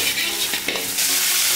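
Squid, garlic, chili and chives stir-fried in a hot oiled wok with a splash of water, a loud steady sizzle with spatula scrapes and stirring clatter throughout, no voices.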